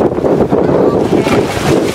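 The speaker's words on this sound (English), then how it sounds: "Whoa, it got so windy." Strong gusts of wind buffet the microphone in a continuous, loud roar with uneven surges, in a yard with inflatable displays.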